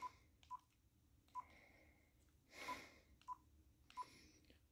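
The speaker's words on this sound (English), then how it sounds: "We'll go ahead and just dial number" Dial tones from a Uniden ELBT595 Bluetooth flip cordless phone: six short, evenly spaced keypad beeps with one longer, louder burst in the middle, quiet and close against a low background hum.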